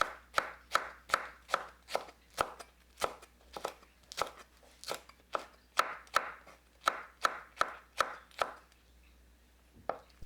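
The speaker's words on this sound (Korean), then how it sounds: "파와 청양고추는 오싹 썰어주세요." Knife chopping green onion and chili peppers on a cutting board, a close, crisp series of about twenty quick regular thuds with brief pauses, alone without talk.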